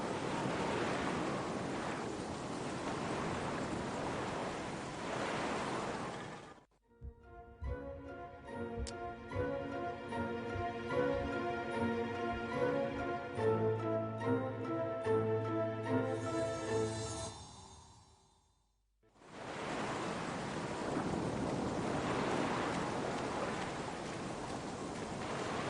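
Ocean surf far below a cliff in The Black Mirror video game, a steady broad wash of waves that drops out for a stretch of music before the roar returns.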